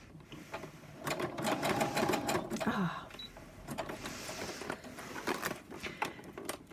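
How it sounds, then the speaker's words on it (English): Sewing machine running a straight stitch through a paper tag, a busy mechanical whirring with rapid needle patter in short bursts, close and fairly steady with brief pauses. "I'm just going to do a straight stitch until I get level with this corner of my tag."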